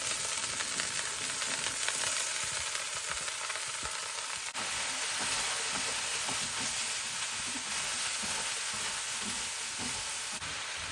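Vegetables stir-fry in hot oil for a crispy beef stir fry, a continuous even sizzle with soft stirring scrapes throughout, no voices.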